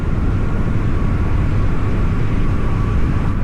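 Dense, steady freeway traffic roar from a busy highway, heard from inside a Sena Specter modular motorcycle helmet, with continuous low rumble and wind noise and no pauses.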